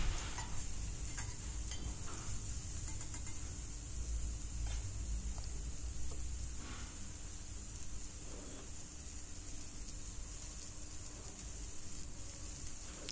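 Mushrooms fry on medium heat with a soft, continuous sizzle, along with occasional stirring scrapes and clicks from a spoon in the pan, heard close but fairly quiet.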